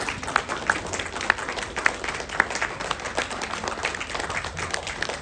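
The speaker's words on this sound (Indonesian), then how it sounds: "tepuk tangan yang sangat meriah, silakan" An audience at a Chinese-Indonesian sangjit engagement ceremony applauds steadily, a dense wash of clapping with a few sharper nearby claps standing out. The applause runs continuously throughout.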